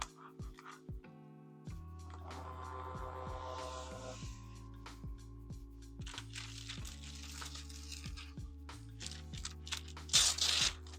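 A Wormhole portable tattoo printer feeds red S8 paper and prints, giving a series of steady electronic motor hums and tonal whines that shift pitch in stages, with faint clicks and a brief rustle of paper near the end.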